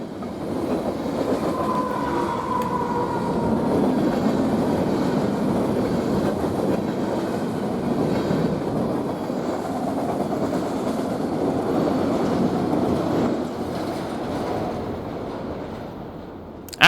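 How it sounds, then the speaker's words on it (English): A Union Pacific-style manifest freight train from Roper Yard to North Platte races down the grade from Archer Hill near Cheyenne, Wyoming, a steady loud rolling rumble of cars and wheels sustained throughout, easing slightly at the end. "A surprise Roper Yard to North Platte manifest train races down the grade from Archer Hill."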